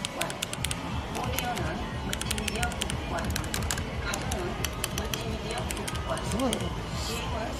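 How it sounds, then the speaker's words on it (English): Irregular, crisp clicks of typing on a magnetic computer keyboard, close and steady under a continuous layer of background voices. "Dude, you can't beat those magnetic keyboards"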